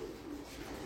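Pigeons coo softly and steadily in a loft where birds are paired for breeding, a low murmuring drone close by with no clear breaks.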